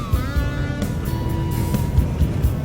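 An old tracked snowmobile engine runs steadily on a trail to a lake in Quebec, a continuous close mechanical drone with a slightly shifting pitch.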